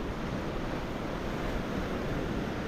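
Sea waves wash steadily onto a white sand beach at high tide, a dense, continuous surf roar mixed with wind buffeting, with no speech.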